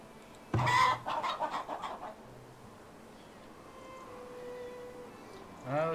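Chickens in the video game Farthest Frontier give a cluster of clucks near the start, then fade into a soft ambient bed, with another brief cluck at the end.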